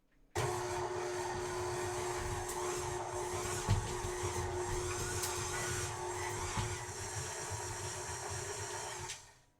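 A KitchenAid stand mixer whirs at a steady pitch while mixing monkey bread ingredients, starting abruptly, holding a constant motor drone with a few faint clinks against the bowl, then cutting off near the end.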